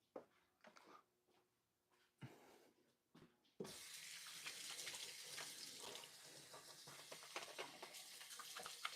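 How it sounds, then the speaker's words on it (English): Water runs from a tap into a sink while hands are washed, starting with a few scattered splashes and clinks, then settling into a steady close gush that fills the rest of the clip. "Washing my hands."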